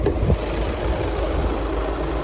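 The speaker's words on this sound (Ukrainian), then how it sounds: "двигун працює гарно, рівненько" A 2011 Volkswagen Touran 2.0 diesel engine idles nearby with a steady, even rumble and low mechanical knock, running smoothly throughout.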